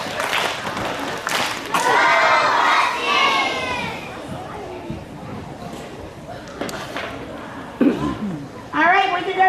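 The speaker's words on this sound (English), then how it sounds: "Let's give them a husky cheer." Children cheer together at a school morning meeting for a 2nd grade class, a loud burst of shouting and whooping that rises and fades, then smaller bursts of voices near the end.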